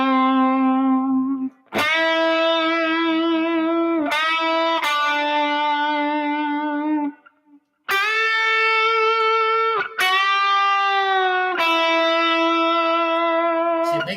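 Distorted electric guitar holding sustained notes with steady vibrato, several long wavering tones separated by brief gaps, loud and alone with effects-heavy tone.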